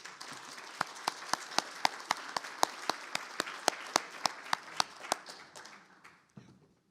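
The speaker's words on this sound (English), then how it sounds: "A big round of applause, please." Conference audience clapping for speakers, fairly quiet and distant, with one person's crisp rhythmic claps punctuating a soft wash of applause before it dies away.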